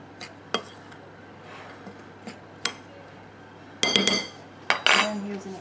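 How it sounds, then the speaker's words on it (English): Sultanas are stirred into scone mix in a bowl, giving scattered utensil clinks and knocks against the bowl, then a denser run of scraping near the end, close and quiet. "I'm just gonna stir those around just to mix the ingredients in."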